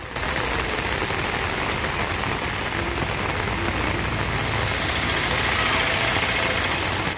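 Monsoon rain pours over a hillside with waterfalls near Dindigul: a dense, loud, unbroken hiss of drops hitting surfaces from start to end, with a faint low rumble beneath it and no voices.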